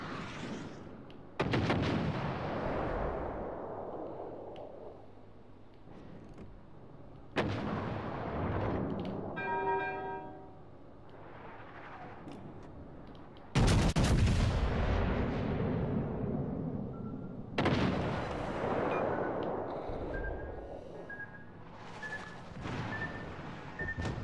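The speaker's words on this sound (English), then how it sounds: "Trying to get my aft guns on, trained on him." Warship aft guns firing in a naval video game, four heavy booming salvos spaced several seconds apart, each with a long rumbling decay.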